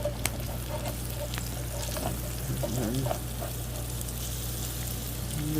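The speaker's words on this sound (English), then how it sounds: "I'm just going to stir this up." Beef and potatoes frying in an electric skillet give a steady sizzle throughout, with scraping and stirring clatter of a utensil rising over it now and then.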